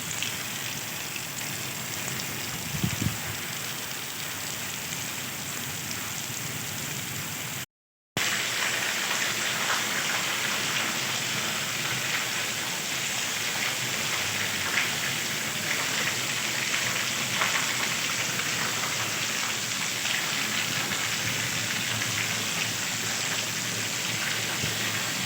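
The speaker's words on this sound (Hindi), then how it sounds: "देखें ये बारिश, छत से पानी आ रहा है।" Heavy stormy rain falls steadily while water pours down from a roof, a dense, loud, continuous wash that runs unbroken apart from a brief cut, with no talk.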